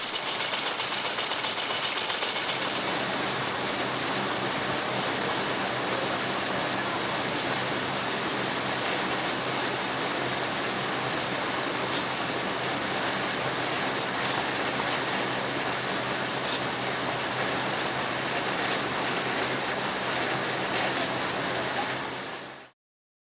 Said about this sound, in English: We are observing the drafting zone wherein the gill pins are moving in a curved path and at a faster speed